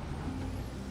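A truck's air brake hisses as the handbrake is set in the SnowRunner video game, a brief steady low hiss under a faint engine hum.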